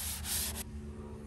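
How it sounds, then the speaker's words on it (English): A short stretch of rough sanding, a dry rubbing hiss that stops abruptly after about half a second, leaving low background hum. "So let the sanding commence."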